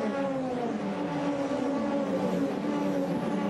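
Formula 3 race cars on the Norisring street circuit during the 2018 FIA European Championship: a sustained, droning engine note from several cars running at speed, steady and moderately loud.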